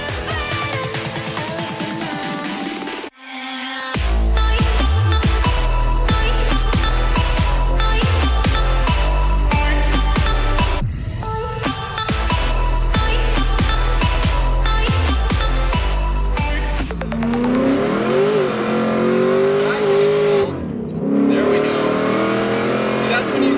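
An 800 hp Cadillac CTS-V with an automatic transmission pulls hard at full throttle, its loud engine roar climbing through the gears with brief drops at shifts and sharp exhaust pops near the end, heard from inside with talking over it.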